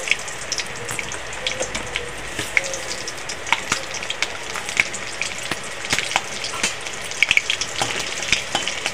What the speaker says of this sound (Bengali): তেলের মধ্যে দিয়ে দেবো ফোড়ন, কালো জিরে, একটা শুকনো লঙ্কা কাঁচা লঙ্কা ফাটিয়ে দিয়ে দেবো